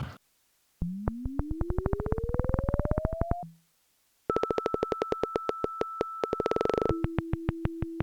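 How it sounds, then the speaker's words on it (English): A synthetic FM pure tone with a looping envelope, pulsed in rapid repeating bursts, first sliding upward in pitch, then holding steady notes with a bright buzzing overtone, no voices. "So we're hearing the pure tone combined with the looping envelope."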